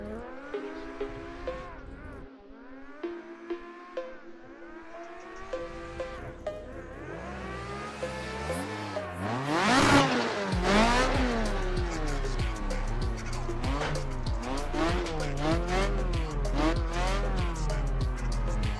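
A car drifting in Assetto Corsa on PC revs hard through repeated throttle blips, then its tires squeal in a long, loud skid with the engine wailing, continuous and up close.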